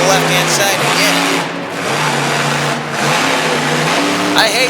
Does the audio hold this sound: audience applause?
no